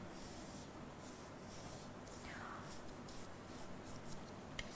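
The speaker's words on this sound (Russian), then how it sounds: "Видите, я не нажимаю на карандашик." Pencil drawing lightly on paper during a second-grade lesson, a soft steady scratching and rubbing with faint strokes, close and quiet with no talking.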